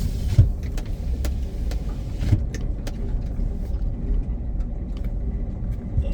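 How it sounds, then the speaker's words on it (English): Power windows roll up in a running vehicle with a low engine rumble underneath, joined by a faint motor drone and a few scattered clicks and knocks. "Let me roll the windows up so it ain't so loud."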